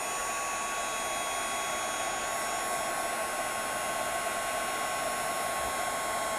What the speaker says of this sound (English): I'm going to hit this with my Marvi heat gun.